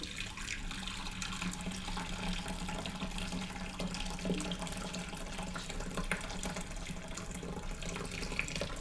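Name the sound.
liquid being poured slowly while making goat cheese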